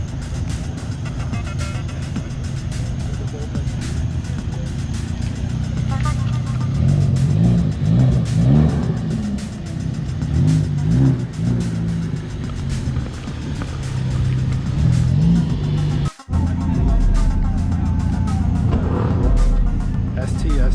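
A Mazda RX-7 rotary engine at a nighttime New York City car meet, growling and revving loud and close for a long stretch under background crowd noise, with one brief cut near the end.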